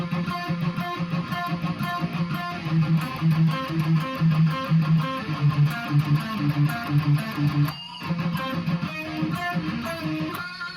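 A guitar plays a melodic bridge passage alone, picking a steady rhythmic run of notes at moderate volume with a brief pause near the end.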